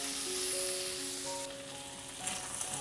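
Okra (bhindi) sizzles in a pan over a medium flame, a steady close frying hiss with faint clinks.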